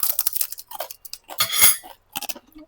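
Crispy pata, deep-fried pork leg, being chewed up close, with sharp crackling crunches in quick bursts and short pauses between bites.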